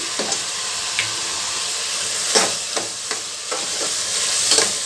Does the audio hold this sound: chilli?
yes